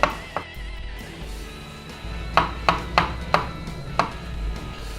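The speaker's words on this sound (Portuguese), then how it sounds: "Cogumelo Paris, que a gente vai então laminar ele também." A knife slices Paris mushrooms on a cutting board, six or seven crisp chops spaced fairly evenly over a low kitchen hum, close and clear.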